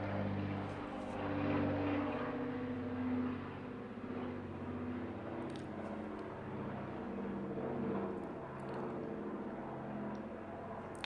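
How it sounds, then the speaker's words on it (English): A propeller airplane drones overhead in a quiet setting, a faint steady low hum with slowly shifting pitch that swells and eases over several seconds with no talk. "let's just wait for the plane to go by"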